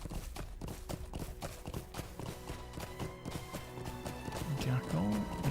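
Rapid, rhythmic hoofbeats of a galloping horse in Lord of the Rings Online, with steady tones and a voice underneath.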